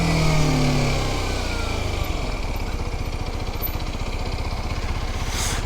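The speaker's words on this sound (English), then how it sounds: "So you see there that I rev matched to the speed of the rear tyre." A Kawasaki 125cc motorcycle engine blips briefly as it rev-matches on a downshift, then settles into a buzzing, pulsing run under load, heard close alongside steady wind rush.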